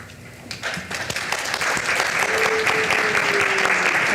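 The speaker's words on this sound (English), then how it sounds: "No clapping yet." Audience applause at a Las Vegas city council meeting, a steady, loud wash of many hands clapping that swells after the first half second and holds through the whole stretch, with a faint voice underneath.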